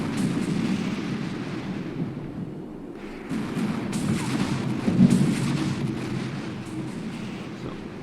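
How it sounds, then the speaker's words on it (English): Mortar rounds firing for effect in a military video game rumble as deep, rolling booms over a steady low battlefield drone, with heavier blasts in the second half. "So our mortars are gonna fire for effect."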